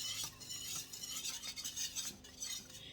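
A spoon stirs pepper into a creamy sauce in a pan, making soft repeated scraping and swishing strokes against the metal, faint and close, with no talking.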